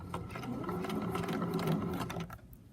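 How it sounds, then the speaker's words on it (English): A sewing machine back stitching to the fabric edge while sewing pajama pants, running in a brief close mechanical whir with rapid rhythmic clatter that stops near the end. "We'll just back stitch to the edge of the fabric"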